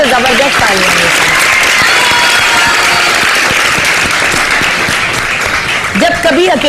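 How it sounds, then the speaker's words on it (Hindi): Studio audience applause on a Pakistani morning talk show, loud sustained clapping with voices speaking over and around it, closer talk emerging near the end. "तो जबरदस्त तालियां हैं।"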